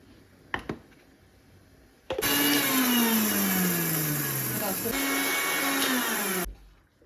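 A kitchen mixer grinder whirs loudly as it grinds a fennel spice mix, starting abruptly after a couple of clicks, its motor pitch sliding down under load, then cutting off after about four seconds; a voice talks briefly before.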